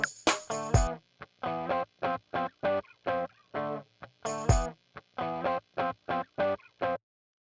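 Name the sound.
guitar through an old amp simulator distortion effect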